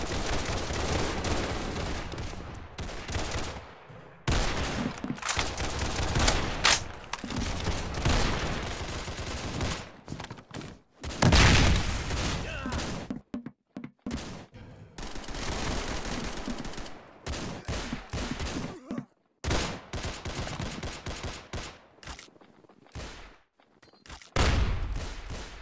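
Gunfire in a Roblox first-person shooter, repeated loud volleys and bursts in irregular clusters with brief gaps, close and dense throughout.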